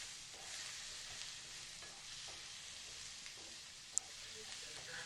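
An egg stir-fry made with guava, cooked village style, sizzles in a pan with a continuous bright hiss, soft stirring strokes and one sharp click.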